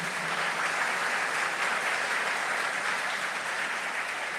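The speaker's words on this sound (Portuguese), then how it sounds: "Dá uma salva de palmas para esse negócio" A church congregation applauds during a Sunday Mass homily, an unbroken, even hiss of many hands clapping together that sounds somewhat distant and holds steady from start to finish.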